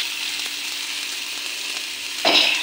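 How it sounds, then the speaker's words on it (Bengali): Chili paste, salt and turmeric frying in a pan, giving a steady hissing sizzle that swells into a brief louder burst near the end as the mixture is stirred. "এখন ভাজাটা ভালো করে কষে নিই"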